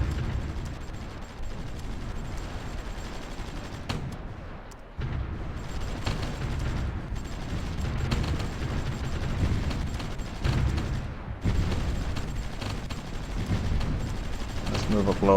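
Artillery bombardment in the Supreme Ruler Ultimate strategy game: a steady, rumbling barrage of distant booms and rapid fire that continues throughout, moderately loud, with a brief dip midway.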